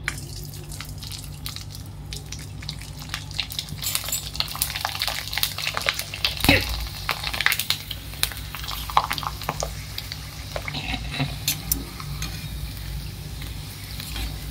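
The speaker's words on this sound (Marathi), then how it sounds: "हे बघा तेल छान तापलंय आणि आता आपण पापड तळून बघू" Sabudana papad with potato shreds frying in hot oil, a steady bubbling sizzle with scattered crackles and occasional clinks, moderately close and heard alone.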